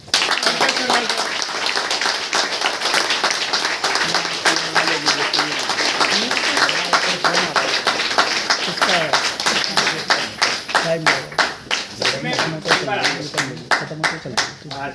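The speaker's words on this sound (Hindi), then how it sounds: "तो जबरदस्त तालियों के बीच में" A crowd at a motivational team gathering claps loudly and continuously, the dense applause thinning into distinct rhythmic hand claps toward the end, with a voice talking over it.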